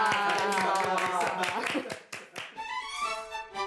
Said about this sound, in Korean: 박수 안 칩니까?